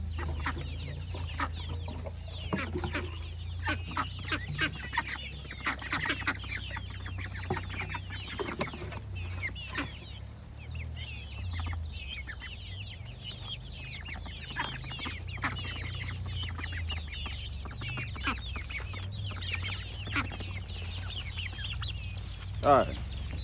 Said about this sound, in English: Look at these crazy chickens.